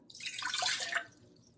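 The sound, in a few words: water being poured into a pot on the stove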